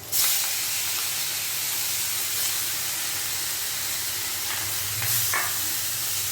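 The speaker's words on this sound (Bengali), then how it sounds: "এবারে আমি চিংড়ি মাছগুলোকে দিয়ে দিচ্ছি তেলের মধ্যে" Prawns dropped into hot oil for a bottle gourd and prawn dish, a loud bright hiss bursting up at once and holding steady, with a few light utensil clicks, close and unvoiced.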